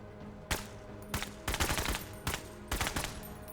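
Bursts of gunfire in the turn-based tactical game Menace, several loud broadband volleys with rapid shots in quick clusters, separated by brief gaps and no talk.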